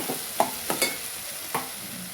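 Radish greens stir-fried in a pan, a soft sizzle underneath a few scraping stirs of a spatula, close and fairly quiet.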